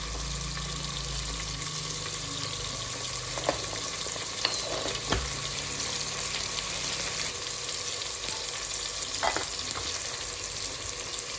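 Potato chips fry in a pan with a steady, dense sizzle of hot oil that stays even throughout, broken by a few faint clinks and stirring knocks.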